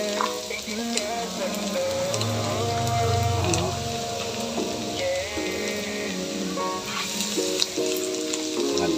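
Garlic sizzles loudly as it is sautéed in hot oil, a dense continuous crackle with occasional spatula scrapes, all heard alone without talk.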